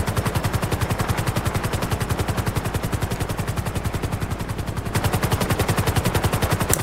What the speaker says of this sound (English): This helicopter is beautiful.